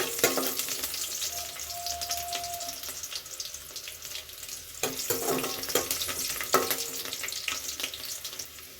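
Onion and curry leaves frying in hot oil for a Mandya-style dal sambar, a steady close sizzle with brief clatters and stirring scrapes partway through and no talking.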